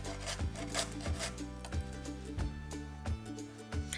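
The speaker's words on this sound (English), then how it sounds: "what I do is just use a grater, and I just grate it up" A carrot is rubbed against a grater in steady, even strokes about every two-thirds of a second, each a close, rasping scrape, with nobody talking.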